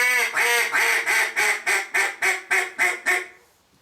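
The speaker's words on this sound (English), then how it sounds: "A duck call is used for one hand." A duck call blown with one hand gives about nine evenly spaced, loud, nasal quacks in a steady rhythm, close up, before fading out with no talking.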